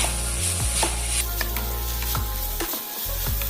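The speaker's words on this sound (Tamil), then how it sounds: "சேர்த்துட்டு திரும்பவும் நல்லா வதங்குற வரையும் வெயிட் பண்ணுவோம்" Chopped tomatoes sizzle steadily as they sauté in a pan for Kerala-style karimeen fish polichathu, with a few stirring clinks and scrapes cutting through the hiss. No one talks.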